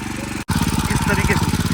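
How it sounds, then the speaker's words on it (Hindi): A tractor engine chugs steadily while digging turmeric in a field, a loud rhythmic throb that cuts out briefly for a split second and then resumes at the same pace. "तो ट्रैक्टर की सहायता से ये कार्य करना बहुत ज़्यादा आसान हो गया है"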